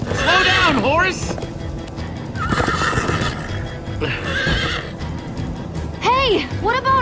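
A Minecraft Story Mode horse gallops with rapid hoofbeats and lets out repeated loud, close whinnies near the start and end, with speech mixed in among the commotion.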